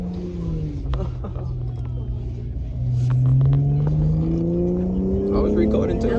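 A single-turbo SRT Dodge Charger revs hard during a smoky tire burnout, its loud, steady engine drone climbing in pitch toward the end, with faint voices in the background.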